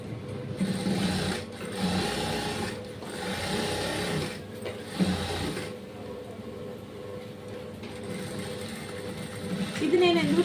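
A sewing machine stitches a blouse in bursts of fast, rhythmic mechanical chatter, close and fairly loud, with brief pauses between runs and a voice talking over it.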